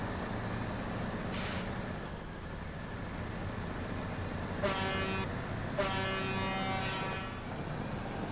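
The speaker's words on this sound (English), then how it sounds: "Always beep to knock over the barricades." A truck horn in the SnowRunner off-road driving game sounds two steady blasts, the second longer, over a constant low engine rumble, after a brief hiss.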